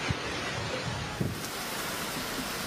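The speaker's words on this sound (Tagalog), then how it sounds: "sinabayan na ng rumaragasang baha ang ulan at hangin" Typhoon Uwan's heavy rain and strong wind lash the Virac boulevard amid storm surge and flooding, a continuous hissing wash of rain and gusts at moderate level with a few low thumps.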